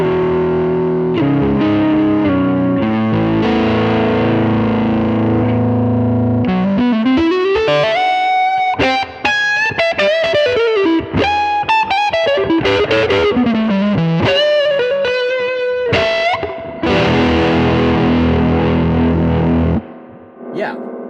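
Jazz electric guitar runs through a Hotlanta Dual Drive pedal with extra gain and the boost engaged, playing loud, overdriven chords and fast melodic runs with sustained notes over about twenty seconds, with no talk.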